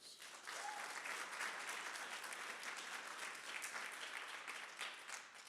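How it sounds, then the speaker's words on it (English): Audience applause at a university conversation event, a steady wash of many hands clapping, fairly distant and even, lasting several seconds. "A round of applause for them"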